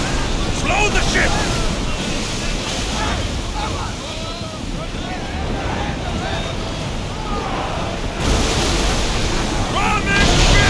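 A ship sails over ocean waves in Assassin's Creed Odyssey, with steady surging water and wind noise rolling continuously and swelling louder near the end, loud and close.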